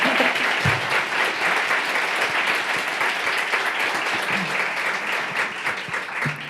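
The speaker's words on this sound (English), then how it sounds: "You've got to have some applause to make you feel comfortable on stage." A crowd welcomes a lip-sync performer onto the stage at a queer cabaret night, with continuous, fairly loud applause of many hands clapping at once from start to finish.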